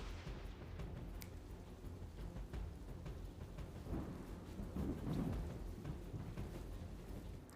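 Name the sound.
rain falling with thunder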